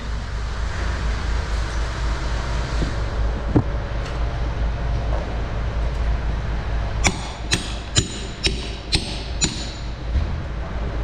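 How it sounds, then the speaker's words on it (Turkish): Hammering parts into a Mitsubishi L300 engine during a rebuild, a series of six sharp metallic strikes in a steady rhythm near the end, close and loud over a low background hum. "En büyüğünü de çaktık."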